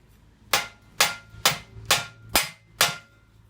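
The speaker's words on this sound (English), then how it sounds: "I can hit it with a rubber mallet so I don't damage any of the threads when I'm trying to knock this pin through" A rubber mallet strikes a pin on a Raleigh Chopper bike part six times in a steady rhythm, each knock a sharp, close thud with a short decay.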